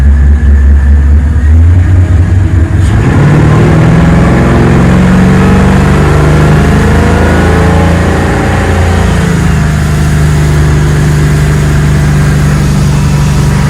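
A loud Maxum 2400 boat engine idles, then throttles up and climbs steadily in pitch as it accelerates onto plane, droning close and continuous throughout.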